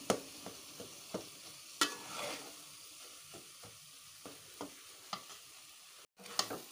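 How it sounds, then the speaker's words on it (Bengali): Taro leaves are stirred in a cooking pan, producing soft, spaced scrapes and light knocks over a faint sizzle, close but fairly quiet, with no talking. "এখন এগুলোকে আমি ভালো করে নাড়িয়ে নেব।"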